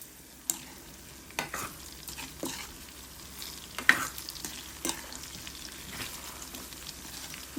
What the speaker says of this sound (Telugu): ఈ ముక్కల్ని ఇలా నూనెలోనే బాగా మగ్గించుకోవాలి.